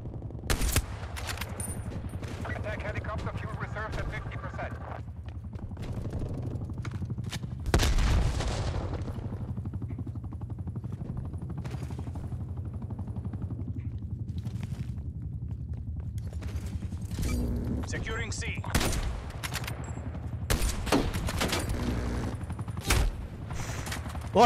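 Gunfire in the shooter game Call of Duty Black Ops Cold War, with repeated sharp shots and bursts, sniper rifles among them, over a steady low engine-like drone, one loud blast near the middle.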